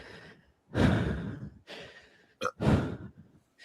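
A voice imitates nervous, heavy breathing with a few loud, deep breaths and sighs separated by short pauses, close and dry.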